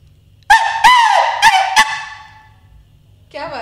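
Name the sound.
man imitating the call of a jungle fowl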